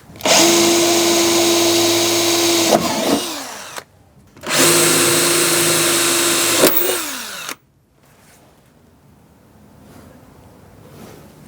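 A power drill whirs loudly in two long, sustained runs while drilling a Honda Civic EK's fenders for a custom widebody, each winding down with a falling pitch, followed by quieter shuffling.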